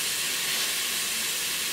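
Tomato dropped into a hot pan of rougail with pepper and spices, setting off a loud, continuous broadband hiss that holds steady throughout, close up with no talking.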